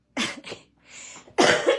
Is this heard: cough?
yes